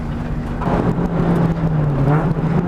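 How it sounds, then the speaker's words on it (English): A front-wheel-drive car drifting with the handbrake pulled gives a close, rumbling engine drone that dips and rises in pitch, with rough tyre and road noise underneath. "I'm pulling the handbrake again to keep it sliding"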